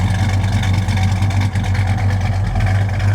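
A 1967 Plymouth Belvedere with a 440 big block burbles steadily from outside, a loud, deep, even exhaust idle with a rapid throbbing pulse and no voices over it.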